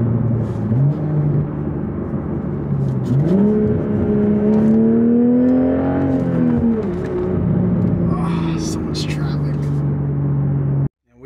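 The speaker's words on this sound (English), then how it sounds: "let's get some downshifts" A manual Toyota Supra heard from inside, with the engine revving and dropping through several downshifts, its pitch climbing and falling in steps under a low road drone, ending in a sharp cutoff; a voice speaks briefly.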